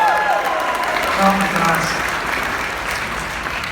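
An audience claps and cheers at an outdoor roller coaster reveal at Six Flags Over Texas, with sustained applause and voices talking over it.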